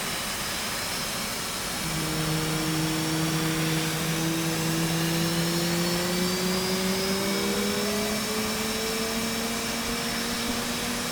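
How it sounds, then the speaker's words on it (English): Simulated jet engine in the DCS flight simulator game throttling up, a steady loud roar with rising whine tones that climb gradually over several seconds, continuous and alone. "Engine throttle up."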